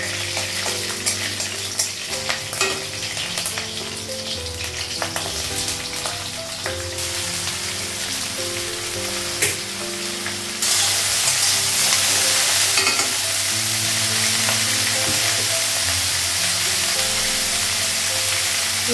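Green chili and whole cumin fry in hot oil while being stirred, with a continuous crackling sizzle and stirring scrapes; the sizzle swells noticeably louder partway through.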